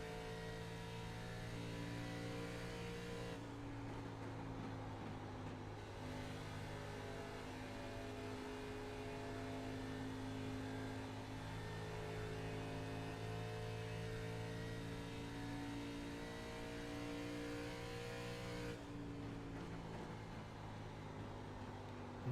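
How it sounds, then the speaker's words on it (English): An ARCA Menards Series race car in the iRacing sim lapping with a steady, loud engine drone whose pitch sags as the throttle rolls off early into corners, then holds and climbs again, with no talk over it. "you can hear him roll way out of the throttle way early on entry to the corners"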